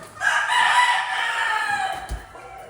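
A rooster crows once at a poultry breeding farm, a long drawn-out call that rises and slowly fades, close and clear against a quiet background.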